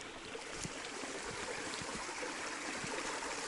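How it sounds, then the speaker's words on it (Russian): Flowing taiga stream, a continuous close gurgling and rushing of water with small splashes scattered through it, no voices heard. "Такой интересный ручей."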